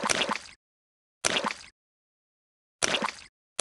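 Cartoon pigs splashing in muddy puddles, three separate short bright splashes with silence between, plus another starting at the end.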